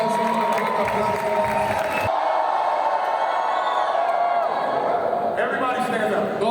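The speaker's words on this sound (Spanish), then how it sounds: "Let's give them a big round of applause." A crowd cheering and clapping in a large room, with voices shouting over the applause throughout.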